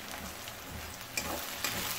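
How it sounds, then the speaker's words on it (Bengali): Tomatoes fry in a spice paste in a pan for a katla fish kalia, giving a steady close sizzle with a couple of brief stirring scrapes. "এর মধ্যে এখন টমেটো দিয়ে দেবো।"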